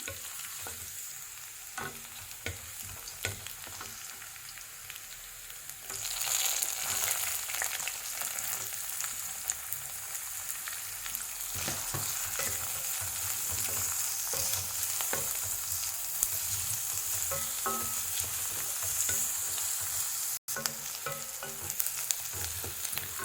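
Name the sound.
ginger, garlic and onion sautéing in a pan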